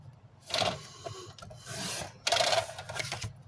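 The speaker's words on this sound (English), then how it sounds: "We're going to cut this down 2 inches." A sheet of paper card being trimmed on a craft paper cutter, several raspy scraping strokes in bursts with short pauses between them, close and fairly quiet.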